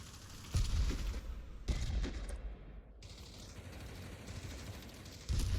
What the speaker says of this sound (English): walking right through that gunfire